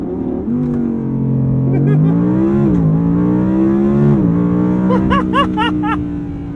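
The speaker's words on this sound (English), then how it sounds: "You hold your foot on the brake, pin the throttle, build up the revs, and let go of the brake." An Audi R8 V10 launches under launch control, its engine rising in pitch through the gears with a quick shift dip midway and more climbing revs, loud and close from inside the car.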